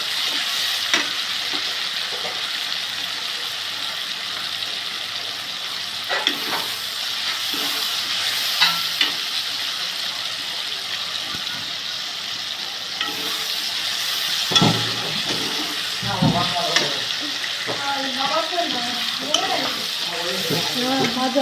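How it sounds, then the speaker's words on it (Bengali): Meat and onions sizzle steadily in a hot pan, with a constant frying hiss and occasional scraping stirs of a spatula growing busier toward the end. "মোটামুটি পেঁয়াজ ভাজা হয়ে আসলো।"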